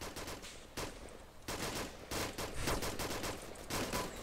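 Automatic gunfire in the Arma 2 combat game, with rapid bursts of shots in several volleys at a steady moderate level, with short gaps between bursts and no talking.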